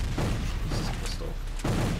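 Pistol gunfire in a Civil War video game: several sharp, booming shots spaced unevenly over a dense, noisy battle background.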